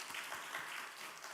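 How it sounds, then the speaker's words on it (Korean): Faint, brief applause from a church congregation during a Sunday service, a soft wash of many hands clapping at a distance. "우리 환영의 박수 한번 드리겠습니다."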